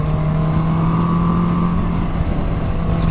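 A Kawasaki H2 sport bike engine while riding, a steady loud drone with a constant tone and wind rush, close up and without talk.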